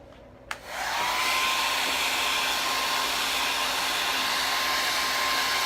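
A hair dryer clicks on and blows with a steady loud whooshing roar, held close while it dries freshly applied chalkboard paint on a board.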